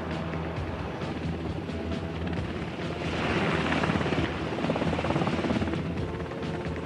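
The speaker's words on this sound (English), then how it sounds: "Helicopters also help out." A helicopter operating on the deck of an aircraft carrier at sea, its loud steady rotor and engine roar continuous throughout and swelling slightly midway.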